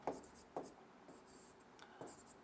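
A pen or pencil writes by hand, giving soft, close scratching strokes in short bursts with brief pauses between them, quiet and without talk.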